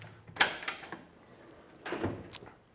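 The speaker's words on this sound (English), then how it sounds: "Door closes nice and tight." Door of a 1957 Chevrolet Cameo pickup shutting: a sharp close solid thunk, then a lighter second clunk a moment later, quiet in between.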